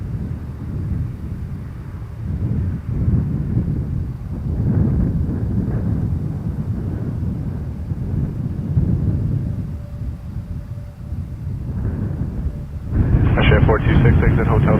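An Air Canada heavy jet airliner lands at Toronto Pearson, a deep sustained rumble that swells and roars louder near the end, while radio voices talk over it.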